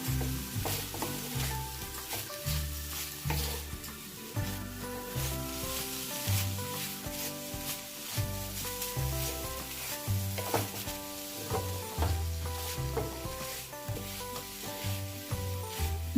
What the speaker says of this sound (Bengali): নারকেলের সাথে চিনি বা গুড় দিয়ে পুর বানিয়ে নিতে পারো এইভাবে আর একটু মিক্স করতে হবে